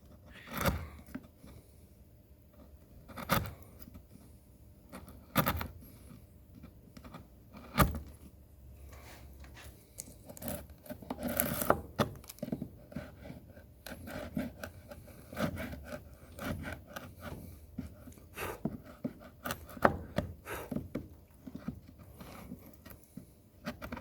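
A chisel chops into wood for an oil stone case, giving sharp irregular knocks and scraping rubs spread across the clip, fairly quiet with no talking.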